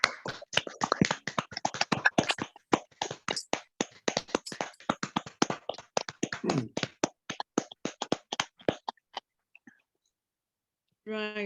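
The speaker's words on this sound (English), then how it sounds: "so we can give you a round of applause" Online audience applauding from home microphones after a poetry reading, many scattered claps and taps that thin out toward the end, with a brief voice at the close.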